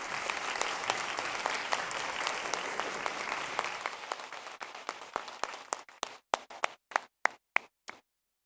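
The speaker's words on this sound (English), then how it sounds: "give them an enormous round of applause" A graduation ceremony audience at a Saigon South campus applauds families and friends, a large crowd's sustained clapping that thins out into a few scattered claps before stopping.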